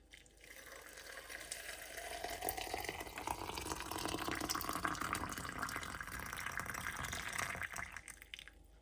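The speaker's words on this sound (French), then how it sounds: "Et je termine avec l'eau bouillante." Boiling water poured into a teapot over mint and sugar for mint tea, a steady close splashing fill whose pitch slowly rises as the pot fills, with no talking.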